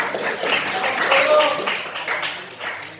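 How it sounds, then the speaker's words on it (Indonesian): Audience applause for a class group in a school academic-supervision session: a steady broadband patter of clapping for about three seconds, with voices talking over it. "Ya, tepuk tangan untuk kelompok kelas."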